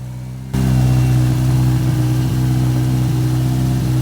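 A built Subaru WRX engine turns over and catches abruptly on its first start, then runs loud and rough with uneven revving, close by.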